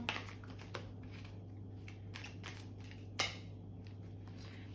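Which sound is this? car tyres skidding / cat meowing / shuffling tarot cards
shuffling tarot cards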